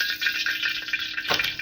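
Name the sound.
mustard seeds spluttering in hot oil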